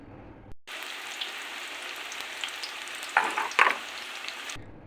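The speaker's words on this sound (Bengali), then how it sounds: "এখানে সমস্ত মোচার ব্যাটারগুলো দিয়ে তারপরে এগুলোকে গোল্ডেন করে ভেজে নিচ্ছিল।" Battered banana flower chops frying golden in hot oil, a steady close sizzle with crackling bursts partway through, cut off sharply at both ends.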